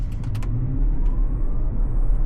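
A Tesla Model Y electric car hums steadily at close range while accelerating, a low continuous drone with a faint rising whine as it speeds up.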